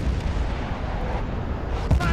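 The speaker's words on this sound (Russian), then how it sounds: "кто-то у нас в лагере тут стреляет" Gunfire and booming blasts in a Battlefield: Bad Company 2 Vietnam multiplayer match, dense rumbling artillery-like reports with a sharper shot near the end.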